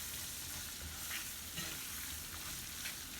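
Onions softening in a pan for cube steak gravy, a soft continuous sizzle and hiss, fairly faint and even, with occasional light pops and no talk.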